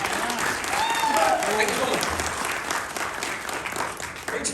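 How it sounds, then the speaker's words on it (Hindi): A seminar audience breaks into loud, sustained applause with some cheering, while a speaker's voice briefly comes through over the clapping. "एक बार जोरदार तालियां सबके लिए"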